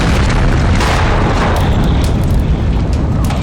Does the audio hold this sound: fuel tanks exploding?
yes